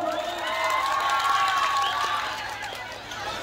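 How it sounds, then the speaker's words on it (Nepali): A crowd at a welcoming ceremony applauds and cheers loudly in a steady, sustained wash of clapping with voices rising through it. "जोरदार ताली बजाउँ त"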